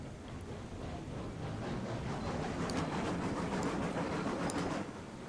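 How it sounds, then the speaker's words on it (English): A steam train rolls toward a station in the railroad game Railroads Online, giving a steady rumbling rail noise with faint metallic clicks and a brief squeal. "let's get this train into the station"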